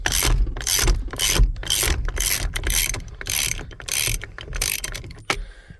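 Ratchet wrench clicking as it loosens a 15/16 nut on the steering column of a 1991 Ford F150, about eleven loud, close, regular bursts of rapid ratcheting with brief pauses between strokes, no talk.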